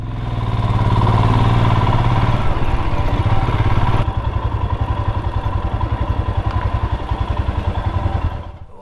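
Motorcycle engine idling loud and close at a desert Himalayan camp stay, a steady throbbing putter that shifts slightly partway through before cutting off near the end.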